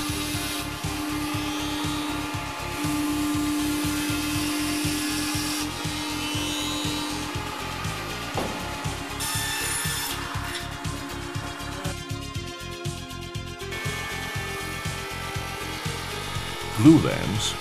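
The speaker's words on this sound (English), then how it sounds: "Versatility, like milling these children's toys, shows the limitless potential for the utilization of the K2." Hundegger K2i joinery machine milling wooden children's toys, a steady mechanical hum with rapid pulsing cuts and shifting tool pitches, under music and a narrating voice.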